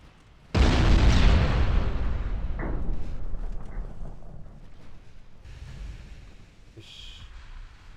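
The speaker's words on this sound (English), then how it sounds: "Well, of course a torpedo hit." A torpedo strikes a destroyer in the naval warfare game Ultimate Admiral Dreadnoughts, a sudden loud explosive boom that rumbles and decays over several seconds, followed by fainter splashing and distant bursts.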